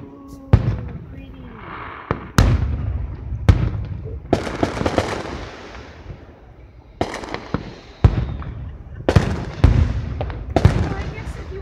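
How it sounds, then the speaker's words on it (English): Fireworks shot off in a parking lot, a rapid series of loud, sharp bangs and crackling bursts that echo and tail off, with faint voices in the background. "Like shooting their fireworks off on the parking lot."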